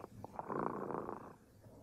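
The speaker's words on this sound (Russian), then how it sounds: "А сейчас слышите, кот Ремоты запел свою песенку." A cat purrs close by in a low, rumbling purr that swells and fades over about a second and a half, with no voices.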